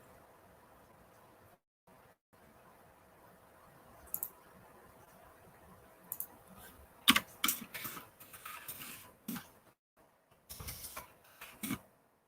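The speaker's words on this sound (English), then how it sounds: "Sorry for hearing the typing." Computer keyboard typing in bursts of quick clicks, fairly close but not loud, with pauses between runs and a faint steady background hiss, no talking.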